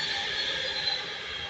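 A passenger train from Manchester running past Bletchley on the West Coast Main Line, a steady rushing rumble with a high wheel squeal on top, fairly close and continuous.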